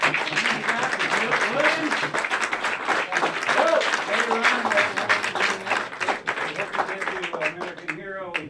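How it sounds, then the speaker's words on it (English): A round of applause from the audience at a Veterans Day gathering, clapping steady at moderate volume beneath someone talking and singing-like voices that run over it throughout. "Just give him a round of applause to John."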